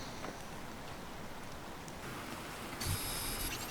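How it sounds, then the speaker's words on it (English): Steady rainfall in the survival game Planet Crafter, a soft even hiss of drops with a brighter, denser patch near the end, no voices over it. "Am I hearing rain? I am hearing rain."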